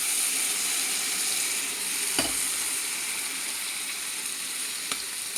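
Amaranth stems with chana dal fry in a pan with a steady, close sizzle throughout, broken by a couple of brief spatula scrapes.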